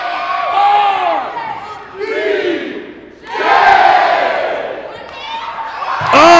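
A wrestling crowd roars and cheers in surging waves during a ringside brawl that spills into the stands and bleachers, loud and close, with shouts and whoops rising and falling across several swells.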